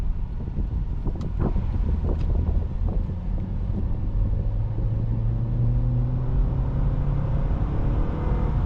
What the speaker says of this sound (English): And the engine sounds good too.